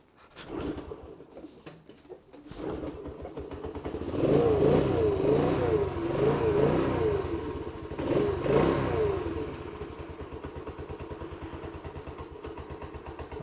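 Honda CT110 motorcycle engine revving during a test ride after a carburettor tune, starting with a few uneven blips, then rising into sustained loud revs with wavering pitch before settling into a steady idle.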